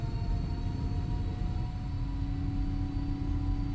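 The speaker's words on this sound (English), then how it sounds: "now I can hear the airplane accelerating" A PMDG Boeing 777-300ER in a flight simulator game gives a steady, loud low rumble of engines building as the airliner accelerates, with faint tonal whine lines running above it and no talk.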